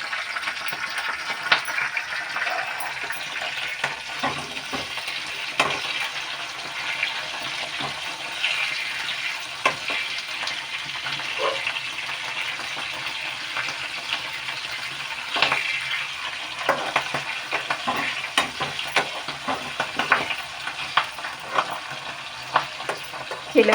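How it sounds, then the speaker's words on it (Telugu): Cumin, fenugreek and mustard seeds tempering in hot oil give a continuous crackling sizzle with scattered pops and snaps, close and steady throughout with no one speaking. "జీలకర్ర, మెంతులు, ఆవాలు వేగిపోయినాయి"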